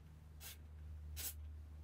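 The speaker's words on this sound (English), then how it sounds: "I've got this activator spray. Give it a quick go" Activator spray is squirted onto a Nintendo Switch Pro Controller joystick in two short hissing bursts close by, separated by a pause, over a faint steady hum.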